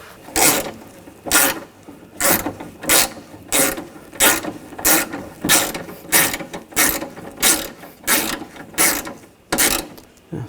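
Hand ratchet snugging down window regulator bolts on a 2000-2006 BMW X5 front door, about fourteen quick, evenly spaced bursts of clicking, close and fairly loud, with short pauses between strokes.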